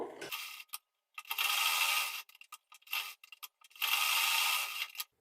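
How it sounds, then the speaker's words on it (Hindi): A sewing machine stitches long straight seams joining a blouse's main fabric and lining, whirring in two sustained bursts with short starts, stops and clicks between them, close and with no voices. "यहाँ पर हम बड़ी बखिया से पूरे को चारों साइड से इसको बराबर से सिलाई लगा लेंगे, जोड़ लेंगे दोनों को।"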